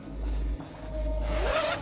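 Zippers on a car shower awning being pulled down in two long, rasping strokes, close and fairly loud, with a short pause between them.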